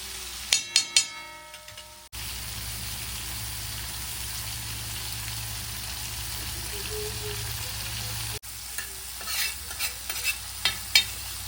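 Prawns tossed with Agri spice masala and salt in a pan for a tawa fry, giving a steady sizzle with bursts of clattering stirring near the start and end.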